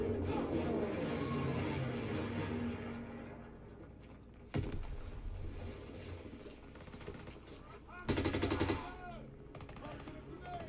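Rapid bursts of video game gunfire rattle through the mix, with sharp loud volleys standing out in separate clusters over a busy game soundscape.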